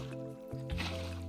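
Water being placed in Minecraft, a short wet squishing splash over steady background music, close and moderately loud.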